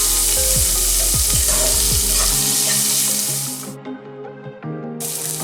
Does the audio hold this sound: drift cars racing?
no